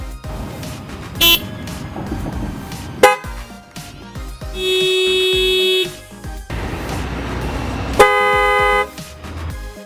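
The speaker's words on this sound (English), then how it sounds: "test your horn before you put your bumper back on, make sure everything's working" Custom budget horn on a Honda Civic blares in several tests: short clicks and a brief toot, then two sustained loud honks of about a second each, close and alone without talk.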